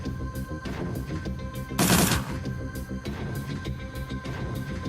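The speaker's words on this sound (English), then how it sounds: "Just shoot him then, I suppose." Gunfire from the Shadowrun: Dragonfall video game: a steady run of rapid, clipped shots over a busy game score, with one louder, longer blast of fire near the middle, no voices.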